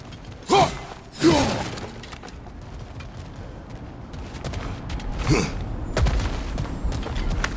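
Objects smashed and shattered in the God of War Ragnarok video game, two sharp crashing breaks close together near the start and another burst later, over a low quiet ambience.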